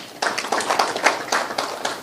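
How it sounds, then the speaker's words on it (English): An audience claps for presenters at a formal project event, a brief burst of steady, dense applause heard close and without talk. "give a round of applause to all presenters"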